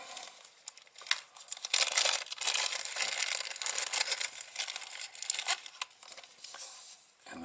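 Small M3 metal nuts and screws for a toy car motor handled up close, giving bright clinking, rattling and crinkly clicks in an uneven run without talk.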